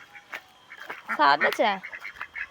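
Ducks bathing in water give out a short burst of loud, nasal quacks close by, set among soft splashes, with a person speaking briefly nearby.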